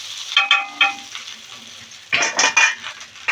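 Chicken sizzles in butter in a pan as a utensil scrapes and clinks against it in several bursts, with a quieter gap between them. No talking.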